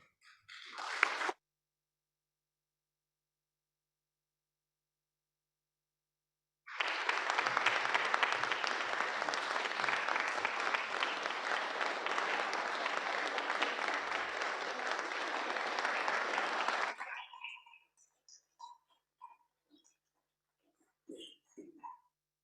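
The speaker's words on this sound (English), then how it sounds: "with that kind of a resounding applause" A room of delegates at a bar association meeting breaks into sustained applause lasting about ten seconds, loud and full. Brief speech comes before it, then the clapping trails into scattered last claps and silence.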